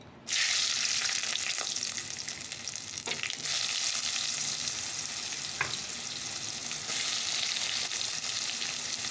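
Chopped garlic and onion hit hot oil in a pan and burst into a loud, continuous frying hiss that stays steady and close, with a few faint stirring clicks.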